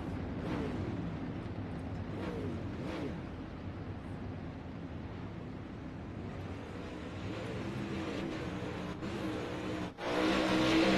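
Four race cars circle a racetrack during a feature race. Their engines make a steady, continuous roar with rising and falling revs, and a louder, harsher burst comes near the end.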